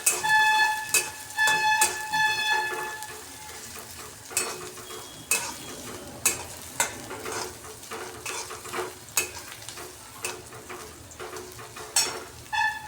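Garlic and green chillies sautéing in a pan for fenugreek leaf bhaji, a steady oil sizzle under repeated scraping and stirring strokes of a spoon against the pan, with occasional metallic clinks.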